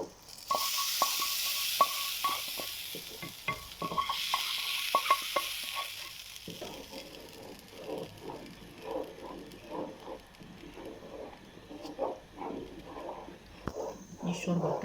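Fried mixture poured over lentils for lentil soup with Alexandrian koshari, a burst of loud sizzling up front, then sputtering frying and stirring scrapes fading to softer crackle, with a voice speaking over parts of it.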